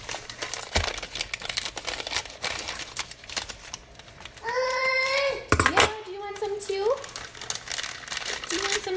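A package of packaged cookie mix is torn open, with sharp plastic crinkling and rustling in short bursts, close up, while a person talks between the handling noises.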